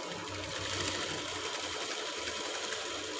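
A sewing machine stitches lace fabric to its lining along a curved Shanghai collar edge, with a steady, fast mechanical whirr and rhythmic needle chatter running evenly throughout at moderate, close level.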